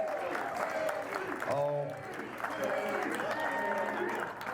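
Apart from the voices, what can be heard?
audience applause in church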